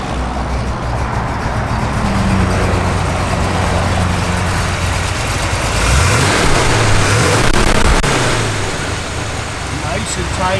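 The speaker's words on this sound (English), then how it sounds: "It's got a great L76 cam. You'll hear it working out the back." A 1965 Chevrolet Corvette with the L76 engine and cam runs steadily, its exhaust giving a loud, lumpy idle that swells briefly with a couple of revs midway, with a person talking over it.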